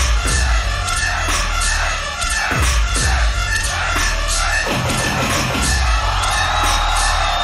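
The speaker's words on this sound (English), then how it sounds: "You get the crowd to go insane." A crowd at a loop station beatbox battle roars, whoops and yells wildly and loudly without pause, the cheering close and dense and carrying on throughout.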